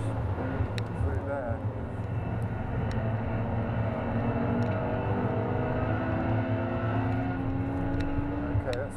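Porsche 991.2 GT3 and Lotus Evora GT430 race past Old Paddock Bend toward Tower Corner and Bobby's chicane, with a steady, loud engine roar throughout under continuous talking.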